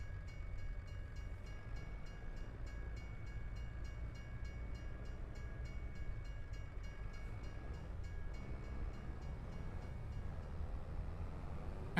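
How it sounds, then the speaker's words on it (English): Train rumbling in through the Farming Simulator 25 game world, a steady low mechanical drone with a faint high whine held evenly for the whole stretch, no voices over it. "One train at a time shows up."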